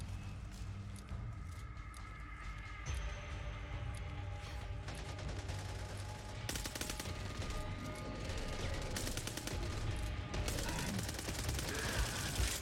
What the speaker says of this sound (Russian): Да какая-то контактная бомба, она тут же взрывается.